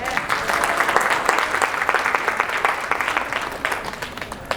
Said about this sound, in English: let's just give a round of applause to the Bloggy Conference team for putting this together